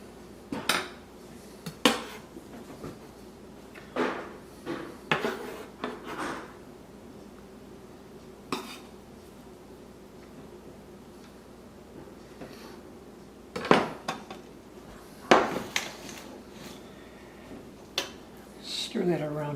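Minced garlic stirred in a pan for a pierogi potato filling: scattered metallic clinks and scrapes of a utensil against cookware, coming in short bursts with quiet gaps between them.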